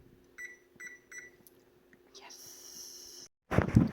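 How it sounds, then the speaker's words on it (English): Kitchen oven timer set for cupcakes baking at 350 degrees, giving three short, evenly spaced beeps, followed by a longer sustained electronic tone, then a louder burst of clatter at the end. "So let's set our timer."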